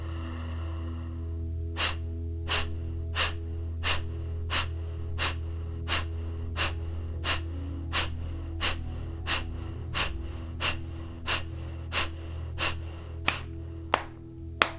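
Kapalabhati pranayama breathing, a run of about eighteen sharp forceful exhales through the nose at an even beat of roughly one per second, close and clear over a low steady background hum.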